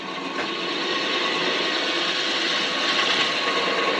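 Drill boring into Osage orange (hedge apple) wood to make a duck call, a steady close grinding, rasping whir that holds at an even loudness throughout without talk.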